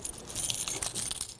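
Keys jingle and clink in short metallic bursts while travel essentials like a wallet, phone charger and passport are packed for a flight, close and fairly quiet with no talking.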